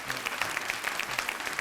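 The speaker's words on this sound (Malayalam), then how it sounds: "നല്ലൊരു കൈയടി കൊടുക്കാം" Applause from a comedy-show studio audience, a steady patter of many hands clapping at moderate volume with a faintly rhythmic pulse, with no voices.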